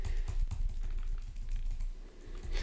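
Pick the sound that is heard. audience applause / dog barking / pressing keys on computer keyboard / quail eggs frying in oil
pressing keys on computer keyboard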